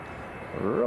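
Aircraft engine noise rising at a runway at Manchester Airport, a low broadband roar that swells sharply in the last moments as the plane rotates for takeoff, with speech present.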